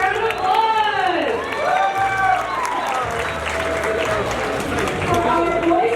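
A crowd at a high school spring rally applauds honoured athletes, with steady clapping and cheering under a loudspeaker voice and scattered chatter nearby.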